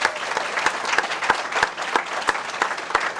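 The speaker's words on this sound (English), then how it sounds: "let's give our candidates a round of applause again" A room of attendees at a 2022 Democratic candidates forum applauds the state representative candidates, a steady, fairly loud wash of clapping lasting a few seconds, with a few sharper individual claps standing out.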